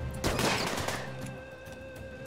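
Defensive turrets firing in the RimWorld game, a rapid flurry of overlapping gunshots that peaks early and then thins into scattered pops over a steady musical drone.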